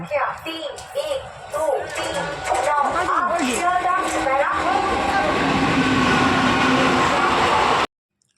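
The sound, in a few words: train at station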